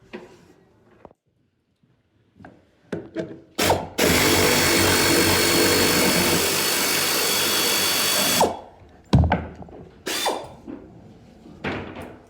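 Power drill boring out pop rivets from bus seat brackets during a bus conversion, a loud steady whine held for about five seconds, framed by sharp metallic clanks and knocks before and after.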